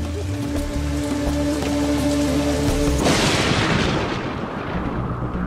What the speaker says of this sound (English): And the reason for all this rain? The monsoon.